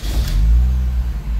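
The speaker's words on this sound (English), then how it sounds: "Let me start the car." The engine of a 2007 Mini Cooper catches and settles into a low, loud rumble over a brief moment, heard up close without any talk.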